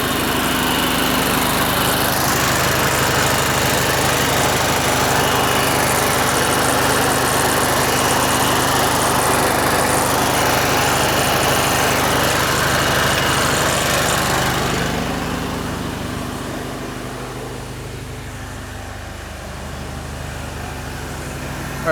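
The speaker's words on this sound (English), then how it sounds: "I'm going to crank up the soft wash" A gas engine runs loud and steady for a pressure washer soft-washing a house in FishHawk, Florida. It holds a constant drone, then eases to a lower, quieter idle near the end, with no talk.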